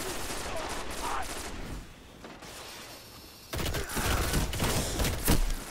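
Rapid game gunfire bursts in Destiny: Rise of Iron, a PvP firefight with dense overlapping shots, quieter midway then louder and busier toward the end, with players talking faintly.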